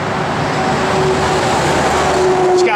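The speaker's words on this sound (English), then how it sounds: "It's a balanced and blueprinted 493 cubic inch, 550 horse engine." A 1967 Plymouth GTX with a balanced and blueprinted 493 cubic inch, 550 horsepower engine idles in a steady, loud, continuous rumble with a faint tonal hum.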